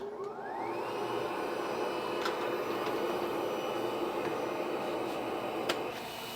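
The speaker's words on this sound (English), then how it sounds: "We'll turn on our suction real quick." Suction on a DTF printer setup starts with a rising whine that settles into a steady, moderately loud airflow hum, with a few faint clicks over the constant drone.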